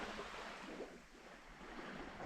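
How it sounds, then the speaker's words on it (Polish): Gentle sea waves washing over a pebble beach on the Baltic coast at Dąbki, a soft continuous wash of surf with light wind, faint and steady with no voices. "Delikatne są tutaj fale."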